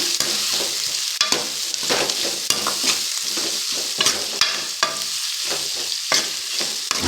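Onion frying in a pan with cassava on the way, a loud close sizzle broken by repeated scrapes and knocks of a spatula stirring, uneven bursts through the whole stretch with no talk.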